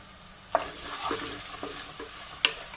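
Whole cardamom, cloves, star anise and a cinnamon stick sizzle in hot oil with a constant close hiss. A few sharp spatula scrapes and taps break through it, with no talking.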